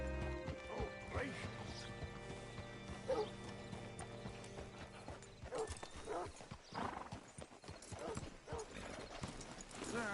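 Horse hooves clop steadily in Red Dead Redemption 2, a rhythmic trotting gait with creaking tack and a brief whinny, set against low ambient tones while voices speak now and then.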